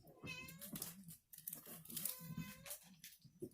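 A cat meows several times in quick succession, close and fairly clear, with soft rustling of packaging between the calls.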